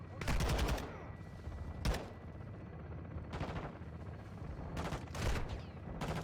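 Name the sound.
gunfire shooting at player in video game Call of Duty MW2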